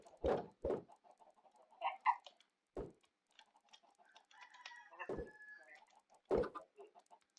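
Chickens clucking and squawking in a video game server, a few sharp calls spread through the span with quieter clucks between them, heard alone without talk.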